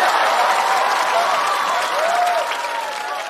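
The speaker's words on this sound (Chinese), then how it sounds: "哇，所有的掌声都响了。" Audience applause at a stand-up comedy show, a dense, steady burst of clapping from a large crowd that holds level for a few seconds and tapers slightly at the end.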